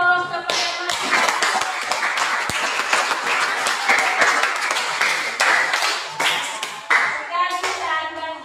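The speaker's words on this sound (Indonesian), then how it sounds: "Berikan aplaus kepada masing-masing." A classroom group gives sustained clapping after a discussion group presents, a dense burst of many hands close by that fades out briefly before a few last claps, with a voice speaking at the start and end.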